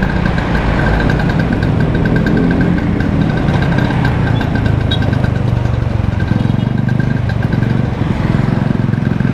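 A classic Vespa scooter engine drones steadily and loudly during a night ride, with a constant, close buzz and no talk over it.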